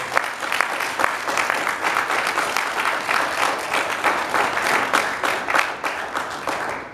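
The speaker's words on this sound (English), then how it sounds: "Peace Chapel, can we give the guests a round of applause?" Church congregation at Peace Chapel applauding visiting guests, a full, steady round of clapping from many people throughout, with faint voices mixed in.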